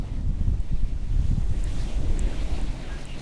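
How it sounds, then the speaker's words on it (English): Waves breaking along an ocean shore while wind buffets the microphone, a steady rumbling wash with no pauses and no talk. "sound that the waves make."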